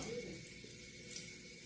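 Water runs from a tap, a steady faint hiss and splash that continues through the short moment with no voices over it.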